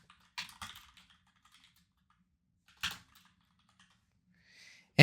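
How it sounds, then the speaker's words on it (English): Bursts of typing on a computer keyboard, a few quick key clusters separated by pauses, close and clear in an otherwise quiet room. "So I type Sudbury."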